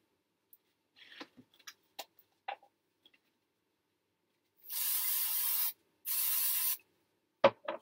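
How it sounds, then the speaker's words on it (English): Two bursts of aerosol spray glue hiss, each lasting about a second, after some light tapping and handling noises, with a sharp clatter at the end. "I'm going to spray glue these for quickness"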